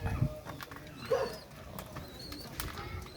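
Racing pigeons pecking at a snack in place of their usual feed, heard as a soft coo and faint scattered pecks and shuffles amid quiet background chirps.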